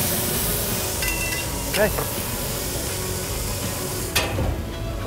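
Meat for Big Mac style smash tacos sizzles loudly as it is pressed down with spatulas, a steady close hiss with a few brief scraping accents while someone talks over it.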